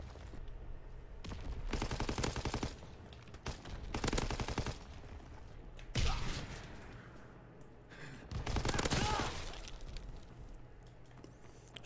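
Gunfire rings out in a video game free-for-all match, several loud bursts of rapid shots in clusters, separated by quieter gaps and fainter distant fire.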